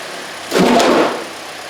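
A Kia Forte's engine swells briefly as the car rolls off a ramp, a short rise in running noise heard close up before settling back to a quiet hum, with no talking.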